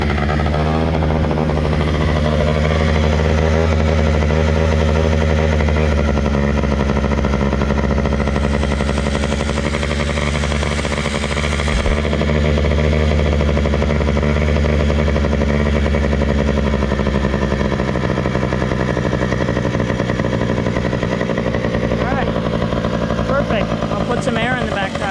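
A Yamaha PW80 dirt bike's small engine idles steadily and loudly up close for about 25 seconds, a continuous putter with someone talking over it.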